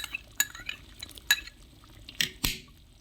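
Sohan halwa mixture roasting in desi ghee in a pan, heard as a few quiet, scattered scrapes and knocks of a spoon over a faint background, close by, with no talking.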